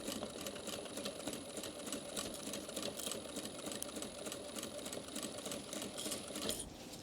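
A sewing machine runs steadily, stitching fabric for a personalised gift bag, its fast mechanical chatter continuous and close for about six seconds before it slows and stops near the end.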